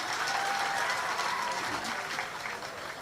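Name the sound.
audience applause at Hindi poetry recital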